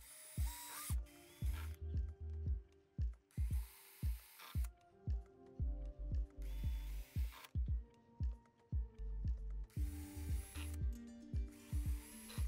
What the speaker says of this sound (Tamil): முதல்ல ப்ரீட்ரில் பண்ணிவிட்டு அதுக்கப்புறம் ஸ்க்ரூ வச்சு இந்த பாக்ஸோட ஃபிக்ஸ் பண்ணிவிடுவேன்.